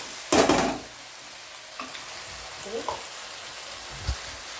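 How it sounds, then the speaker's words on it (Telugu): Cooked okra is stirred in a pan, a short burst of scraping and sizzling followed by a few soft taps and quiet stirring sounds. "ఇప్పుడు బెండకాయ ఇలా మళ్ళీ అంతా బాగా ఒకసారి కలుపుకోవాలి"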